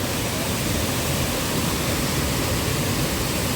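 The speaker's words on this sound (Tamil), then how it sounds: "எல்லா இடத்துலையும் நல்லா ஃபால்ஸ் பயங்கரமாக வருதுங்க தண்ணி" A loud, constant roar of rushing water from a rain-swollen waterfall, close by and steady, with no other sounds standing out.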